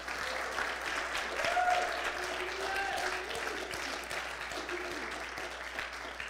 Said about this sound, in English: Let's clap our hands if you believe that tonight.